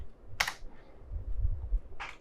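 Someone types on a computer keyboard in two short quick bursts of clicking keystrokes, separated by a quiet pause with low background rumble.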